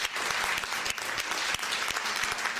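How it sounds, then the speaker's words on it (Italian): An audience at an evening lecture in Italy applauds, a dense steady burst of clapping heard up close and alone, with no talk over it. "Merita un applauso."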